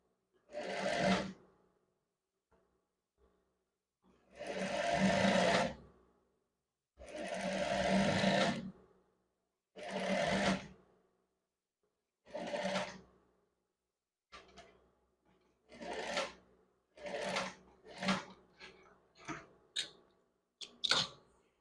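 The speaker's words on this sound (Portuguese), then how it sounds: "Eu abro a gola e vou pespontar, um pesponto bem estreitinho, só de um lado" A sewing machine topstitching a narrow seam along one side of a scrub collar, running in several separate bursts of a second or two each, then shorter quicker stops and starts toward the end, clear in a quiet room.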